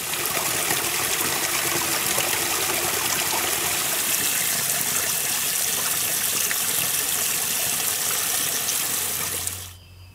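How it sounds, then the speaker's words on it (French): Water gushes steadily from a pipe fed by a captured mountain spring along a trail, a loud, close, continuous splashing that stops abruptly near the end. "on voit un tuyau là qui ramène l'eau vers la vallée"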